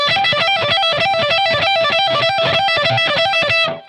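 Electric guitar with heavy distortion plays a fast, repeating lick of quick picked notes, bright and gritty, heard alone and up close before ringing out briefly at the end.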